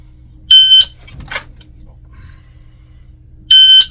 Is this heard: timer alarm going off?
yes